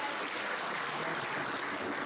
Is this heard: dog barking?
no